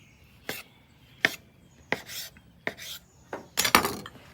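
A knife slices a tomato slice into strips on a cutting board, six or seven crisp chops spaced irregularly, close and fairly quiet, with the last few coming in a quicker cluster.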